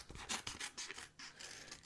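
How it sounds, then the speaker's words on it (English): Scissors cutting strips of compression bandage for a sprained ankle, a close, soft series of crisp snips and rustling fabric scrapes in quick succession with no voice over them. "So hang tight, I'll just cut off a few strips here."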